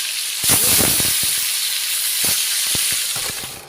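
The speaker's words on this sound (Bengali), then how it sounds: "দেখো মাছ ভাজাগুলো আমি লাল লাল করে ভেজে নিয়েছি একটু একটু করে" Tilapia fish pieces frying in hot oil give a loud, close, continuous hiss and sizzle with occasional sharp pops and crackles.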